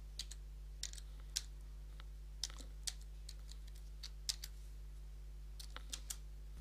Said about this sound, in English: Now type in your new password